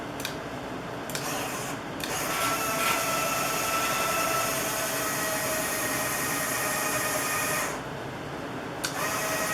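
Electric retracts on a Reeves Spitfire model raise both landing gear at once, a steady whirring motor drone with a faint scraping rasp running for several seconds, close and alone, with brief clicks near the start and end.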